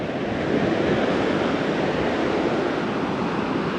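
Waves at Mattu beach surge against boulders laid to break the water, a dense, steady roar that swells slightly after the first half second and holds alone.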